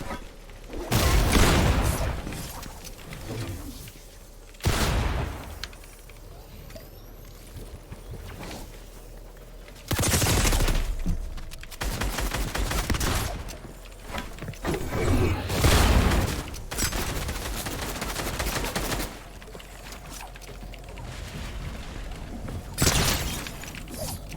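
Heavy pump shotgun blasts fired in a Fortnite Battle Royale arena match, several loud booming shots spaced a few seconds apart with short gaps of quieter game noise between them.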